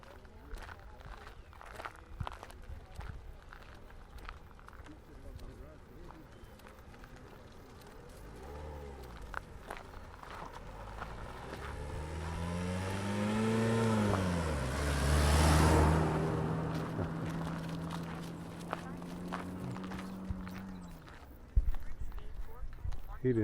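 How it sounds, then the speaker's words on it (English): Cows crossing a road along the Camino and stopping traffic, their hooves clopping irregularly on the pavement while a vehicle swells past and idles nearby, with people talking over the scene. "this is what they mean by beware of cow crossing. Stopping the traffic."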